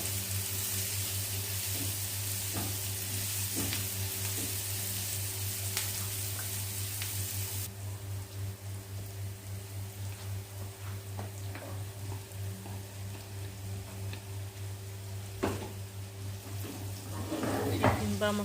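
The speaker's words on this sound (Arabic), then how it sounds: "نزلت بالفراخ بتاعتي، اديها تقلبتين كده بقى مع الفلفل والبصل" Chicken stir-frying in a pan with peppers and onions, a steady sizzle with occasional clinks of a utensil against the pan as someone talks over it.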